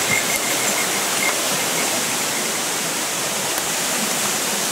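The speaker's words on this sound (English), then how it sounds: "Right around this corner is a nice waterfall." A waterfall in Japan roars as a steady, broad rush of falling water, close and continuous, with no other sounds standing out.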